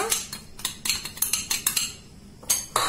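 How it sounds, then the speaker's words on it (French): A utensil stirs hazelnut and almond powders with cornstarch in a mixing bowl, giving a series of close, sharp clinks and scrapes in an uneven rhythm, about a dozen strikes with a short pause near the end. "On mélange tout ça ensemble, bien comme il faut, pour ne pas avoir de grumeaux"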